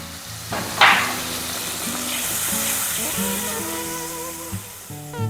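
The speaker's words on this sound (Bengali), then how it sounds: "এবারে অল্প জল দিয়ে মশলাটাকে কষিয়ে নেব।" Spice paste of chilli powder, turmeric and ginger sautés in a pan with a little water, giving a steady close bubbling sizzle with a sharp splash near the start and a faint hum underneath.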